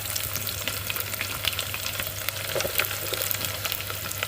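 Onions frying in hot oil with chillies in a pan, a dense, steady crackling sizzle close up with scattered pops and stirring scrapes, no voices.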